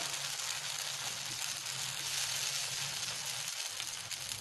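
Thick dosa batter cooks on a hot pan over a medium flame, giving a soft, even, continuous sizzle heard alone and fairly quiet throughout.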